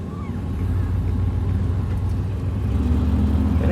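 A 1968 Ford LTD engine idling after running for nearly an hour, a steady low rumble with a faint whir, held even and fairly close throughout.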